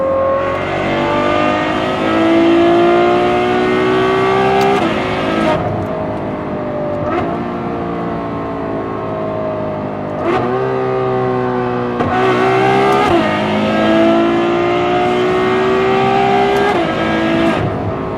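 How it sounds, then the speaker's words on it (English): A Ferrari engine with open exhaust revs loudly and repeatedly, its harsh exhaust note climbing through the gears, dropping between pulls, close and dominant. "this is closed exhaust. Now we're gonna do open."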